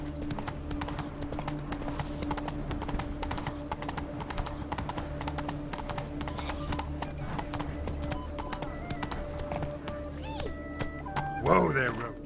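Hooves of Roach, the horse in The Witcher 3, clip-clop at a steady trot across the whole stretch, joined by a brief neigh near the end over a low game ambience.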